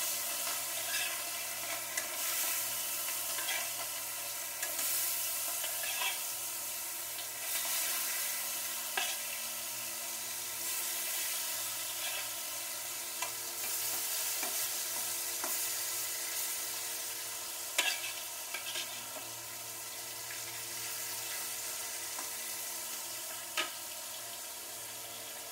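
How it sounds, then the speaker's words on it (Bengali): Fish pieces sizzle steadily in hot oil in a home kitchen pan, a soft continuous crackle with occasional sharper pops, heard alone without talk. "তেলটা গরম হয়ে গেছে, এক এক করে মাছ দিয়ে দিচ্ছি।"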